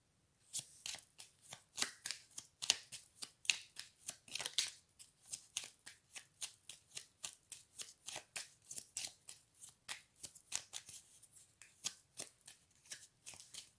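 Cards being shuffled by hand before a final card is drawn in a guidance reading: a long series of soft, crisp riffling flicks in a steady rhythm, quiet and close, with no talking.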